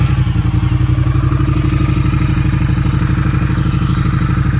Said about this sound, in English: It's got that Triumph sound,